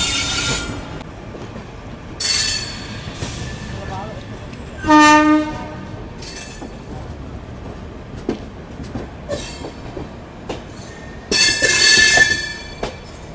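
An express train hauled by a WAP1 locomotive passes close at a station, giving a loud, long, tonal horn blast. Wheels squeal and rumble, and a second sharp burst comes near the end.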